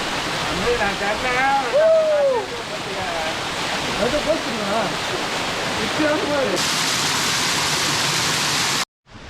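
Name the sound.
Kiliyur waterfall at Yercaud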